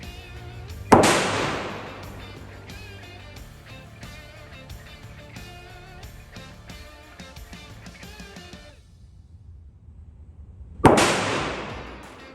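Two loud gunshots ring out at a shooting range about ten seconds apart, each a sharp close crack with a ringing tail, and a faint rattling clatter sits between them.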